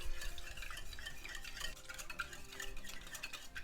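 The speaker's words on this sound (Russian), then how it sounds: "Чайную ложку соли без горки. И все это венчиком взбиваю." Milk, egg and salt whisked together in a bowl with a metal whisk, a steady quiet clinking and stirring rhythm against the bowl that runs throughout without speech.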